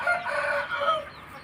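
A rooster from a backyard flock of fighting chickens in Thailand crows once, close and clear, a drawn-out call that rises then trails off.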